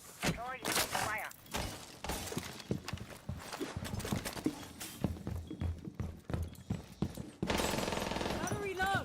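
Video-game gunfire crackles in dense, rapid bursts of shots mixed with clattering impacts. Loud and close, it runs almost without pause, with voices talking over it.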